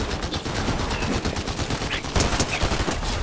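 A steady run of rapid gunshots from the Fortnite video game, loud and close, forming a dense crackle of shots with no talking.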